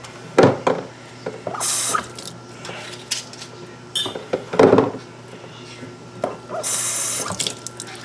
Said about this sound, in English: just take and run some hot water right there